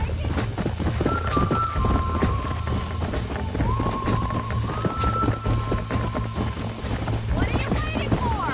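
Horses gallop in the Red Dead Redemption game, their hooves clip-clopping in a fast, continuous rhythm with a couple of whinnies, while a voice talks over the action.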